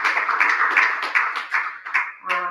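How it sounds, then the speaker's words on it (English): An audience claps in applause for a congresswoman at a police department funding presentation for a mobile command center in Riviera Beach; steady, fairly dense clapping that swells and dips, ending with a brief tonal sound. "Please give her a round of applause."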